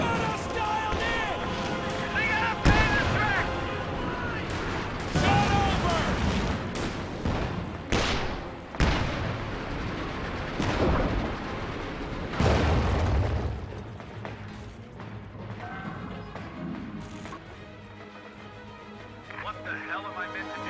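Pack howitzer artillery fire in a World War II shooter game: repeated sharp, heavy booms and blasts scattered through steady game noise, under near-constant spoken commentary.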